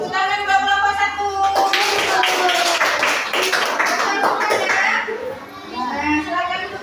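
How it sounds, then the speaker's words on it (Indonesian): Children applaud a classroom group together, with a burst of dense clapping that runs for several seconds alongside an adult speaking and children's voices. "Tepuk tangan buat kelompok 1."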